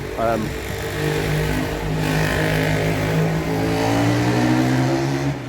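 A motorbike engine rumbles past nearby on a street in Folkestone, its steady mid-pitched drone rising and holding under background street noise.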